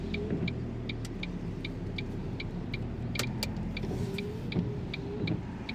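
Steady low engine and road rumble inside a moving car, heard from the passenger seat, quiet and continuous with faint intermittent clicks and small rattles.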